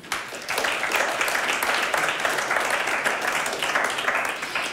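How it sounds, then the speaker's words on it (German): Sustained applause from a church audience, a dense and steady wash of many hands clapping at moderate loudness throughout. "wir geben ihnen einen großen Applaus"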